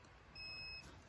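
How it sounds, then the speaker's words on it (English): A single short electronic beep from a Topeak D-Torq digital torque wrench, a thin high tone lasting under half a second, faint against quiet background noise. "So there's the beep."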